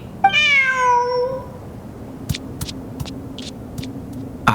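A cat in the video game Genshin Impact lets out one clear, drawn-out meow near the start, followed by faint ambient hum and a few soft clicks.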